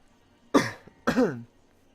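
Two sharp coughs close to the mic, about half a second apart, in an otherwise quiet room.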